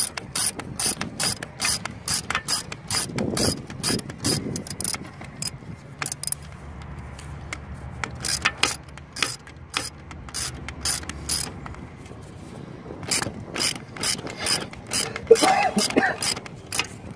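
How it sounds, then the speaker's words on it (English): A wrench ratchets quickly while tightening the alternator belt on a 1996 Honda Accord V6, giving dense, loud bursts of rapid clicks close up, with a pause in the middle before the clicking resumes. "what we're going to do is tighten it back up with this wrench real quick"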